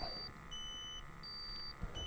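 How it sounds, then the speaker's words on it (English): Portable gas detector alarm giving faint, evenly spaced high electronic beeps, short tones repeating against a steady background hum. "My instrument went from a high alarm to a low alarm condition"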